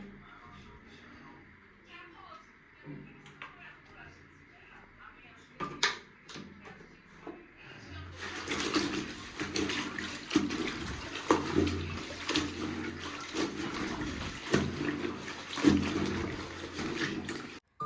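Water runs while something is washed with shampoo: quiet shuffling and faint handling noises at first, then a loud, continuous splashing gush of running water for the second half, with voices talking underneath.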